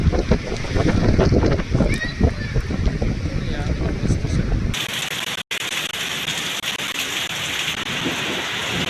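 A sudden rainstorm with strong wind near Vapi, a dense, steady roar of rain and gusts that is loud throughout, with a short break in the middle.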